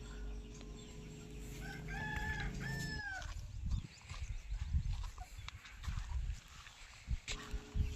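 Rooster crowing on a poultry farm compound, one long rising-falling crow up close at the start, followed by scattered chicken clucks, shuffling and thumps in a rustic outdoor setting.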